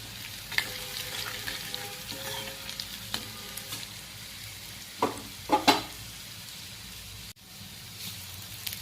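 Curry leaves sizzle in hot oil in a pan while corn chevda is prepared, a soft continuous frying hiss broken by a few louder scraping stirs near the middle, with no talking.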